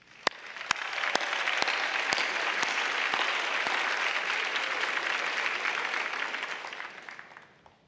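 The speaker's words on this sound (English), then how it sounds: "Graduates, let's give your supporters a huge round of applause." At a 2016 afternoon university commencement ceremony, the audience claps in a dense, sustained round of applause. A few sharper claps stand out early, and the ovation builds quickly, holds steady, then fades away over about eight seconds.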